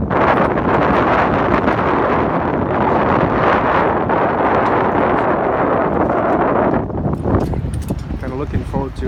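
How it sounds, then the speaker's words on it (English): Strong wind gusts roar across the microphone on a boat at sea near Catalina Island, a loud continuous rush that drops off near the end as someone talks. "a little breezy today"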